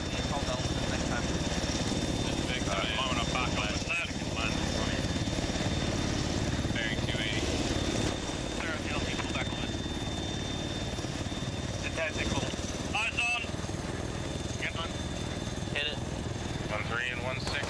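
A helicopter in a military video game, its steady loud rotor and engine drone running continuously throughout while several players talk over it on radio chatter.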